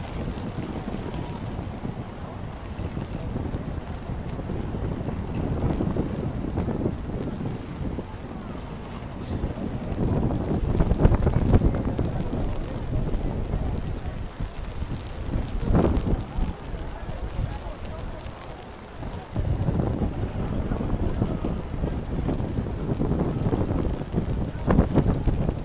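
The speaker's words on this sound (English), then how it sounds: "Here's all the wind blows around the water from the waterfalls." Wind gusts buffet the microphone on a very rainy day at Ground Zero, with a steady rush of rain and waterfall spray from the memorial pools, rising and falling in strength under occasional talk.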